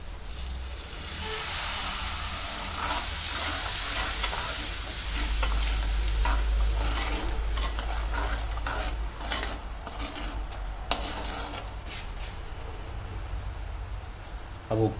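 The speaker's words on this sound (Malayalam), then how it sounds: "ഇനി കുറച്ച് വിനാഗിരി അതിലേക്ക് ചേർക്കാം." Mussel pickle cooking in a pan for Malabar-style kallummakkaya achar as vinegar is added, giving a steady close sizzle and frying crackle with stirring scrapes throughout, a brief louder surge midway.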